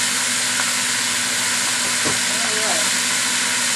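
Gator tenders fry in a pan of hot oil with a steady, close, broadband sizzle and hiss throughout, and a voice speaks briefly over it.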